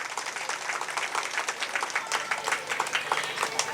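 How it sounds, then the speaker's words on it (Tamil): An audience at a religious talk at a Mariamman temple applauds, a steady dense patter of many hands clapping at moderate distance for several seconds. "கைத்தட்டு கொடுக்கலாமே"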